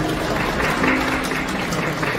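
Wedding guests at a ceremony in Jincheon clap for the bride and groom as they bow, a dense, even wash of applause that stays loud across the whole moment, with faint hum beneath.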